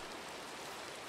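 Rain falls steadily in a Minecraft modpack game, a soft even hiss filling the short moment with no talk.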